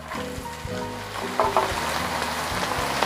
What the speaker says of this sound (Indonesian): Selanjutnya saya goreng teri jengkinya ya.